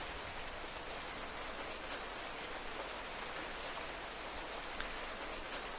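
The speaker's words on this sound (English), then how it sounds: "Oh great, rain." Steady rain in the Minecraft video game, a continuous even hiss of falling drops with scattered tiny patters, unbroken and alone for several seconds.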